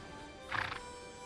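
A Camargue horse gives a short, fairly faint whinny from some distance, rising briefly above a steady background hiss.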